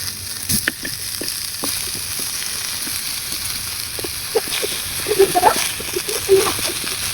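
Sweet pumpkin pieces sizzle on a hot tawa in a continuous, fairly loud frying hiss, with small pops and clinks toward the end and faint voices in the background.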